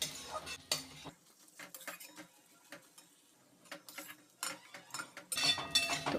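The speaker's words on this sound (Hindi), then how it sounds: "अब एक बार फिर से चला लेते हैं" A utensil stirs spiced potato masala, seasoned with garam masala, in a pan as samosa roll filling; irregular metallic scrapes and clinks, close and moderately quiet, with a brief sizzle and louder scraping near the end, no talking.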